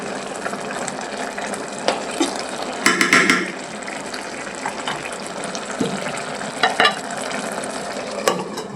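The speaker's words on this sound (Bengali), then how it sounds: "এদিকে কিন্তু খিচুড়ি হচ্ছে" Khichuri of rice and masoor lentils cooking in a pot: soft bubbling, sizzling and stirring clinks with scattered utensil knocks, steady and close, no talking.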